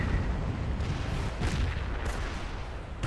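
Panzerschreck rocket launchers in the Company of Heroes game fire rapidly, producing dense, continuous booming blasts and explosions that overlap with no pauses, loud throughout.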